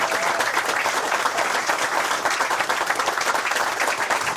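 Polite audience applause from a small crowd of about 74 people at a live golf event, a steady dense patter of clapping that holds evenly throughout without cheers or voices.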